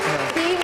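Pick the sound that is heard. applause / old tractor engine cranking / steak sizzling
applause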